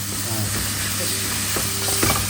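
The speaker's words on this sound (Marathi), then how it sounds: "सुंगटां घालून बरें तळसोवपाचें मातशें तळसूंक जाय" Prawns frying with tomato in a pan for a Goan prawn curry make a constant close sizzle, with light spoon stirring and scraping over the crackle.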